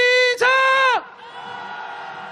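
Protesters at a snowy candlelight rally in Seoul raise a shout together: a loud, sharp tonal call opens, then a broad, sustained crowd roar rises and carries on at a lower, steady level.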